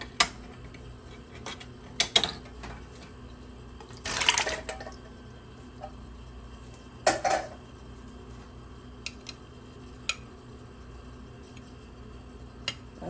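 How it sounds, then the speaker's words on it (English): Canned peaches poured into a pot on a kitchen stove for homemade peach cobbler, quiet background broken by scattered wet plops, clinks and one longer splashing pour, no talking. "what we're gonna do is add the peaches to the pot"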